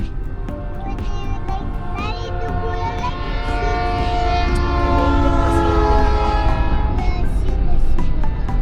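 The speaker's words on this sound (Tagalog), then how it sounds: "The train is coming." A train rolls past close by, a loud steady rumble under long sustained horn tones that swell over about eight seconds, with a faint voice briefly audible beneath.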